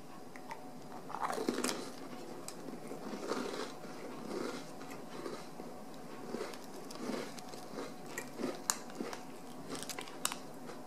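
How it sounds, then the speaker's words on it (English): Crisp bites and crunchy chewing on a Snackwell's creme sandwich cookie with a hard, brittle wafer, several close, quiet crunches spread irregularly over about eleven seconds with no talking. "The cracker's initially hard, but as you bite down on it, it does give away."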